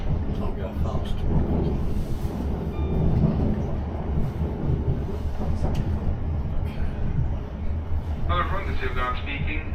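A Class 455 South Western Railway electric train runs along the line, heard from inside as a steady rumble with rattling and clicks from the track, while passengers talk over it.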